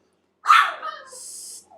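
A pet dog gives one short, close bark followed by a softer trailing yelp, heard alone indoors with no talking.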